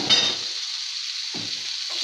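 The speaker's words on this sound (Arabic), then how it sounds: "وهنشوحه مع اللحمه." Onions sizzle and fry with meat in a hot pan, a steady loud crackle with a brief stir or clink at the start and soft scraping movements partway through.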